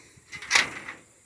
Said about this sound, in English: Now, I got a block and a door that opens.